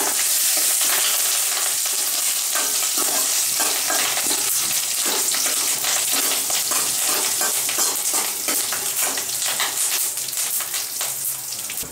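Curry leaves and green chilli frying in hot oil for a Tamil fish gravy, a dense crackling sizzle with sharp spits, close and loud throughout, no talk.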